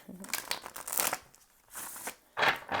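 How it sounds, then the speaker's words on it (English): Tarot cards are shuffled in a few short, crisp riffling bursts close by, separated by brief pauses. "Okay, so we're going to have one more shuffle."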